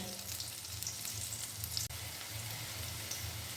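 Battered drumstick flower pakoras frying in hot oil, a steady, even sizzle close up with faint crackles, continuing without pause, brief dip midway.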